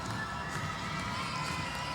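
Dense, steady roar of an arena crowd cheering and shouting at a Halifax Hurricanes versus Moncton Miracles NBL Canada basketball game at Scotiabank Centre, filling the space continuously and loud throughout.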